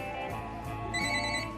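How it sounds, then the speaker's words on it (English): A telephone rings with a steady electronic trill, moderately loud and heard alone in an indoor room with a faint background hum. "let me get the phone"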